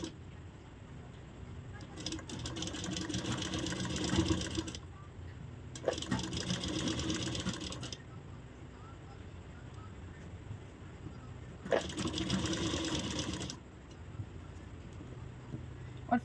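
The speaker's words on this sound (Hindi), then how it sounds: "अभी हम सिलाई लगाना शुरू करते हैं।" A sewing machine stitches a blouse in several sustained humming runs of a few seconds each, separated by short pauses, with someone speaking Hindi over the machine.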